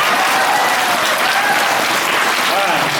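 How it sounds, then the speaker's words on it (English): Schoolchildren in a school gathering clap for visiting OSU girls' basketball players, a dense, steady wash of applause that stays loud for the whole stretch, with some voices mixed in. "You guys can clap for them."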